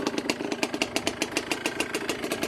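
A Yamaha Blaster ATV engine running after a kick start, a rapid, slightly uneven popping idle with regular exhaust pulses, close and fairly loud with no talking.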